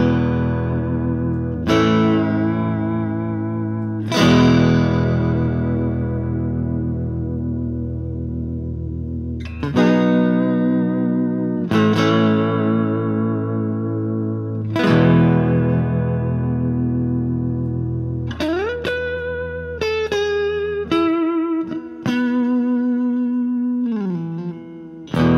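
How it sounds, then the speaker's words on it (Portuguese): An electric guitar is played through distortion and effects, with a tremolo bar bending sustained notes and chords up and down in wavering dives over several phrases with pauses between, loud and close with no talk. "Vamos ver um pouquinho da alavanca aqui, como é que está essa alavanca."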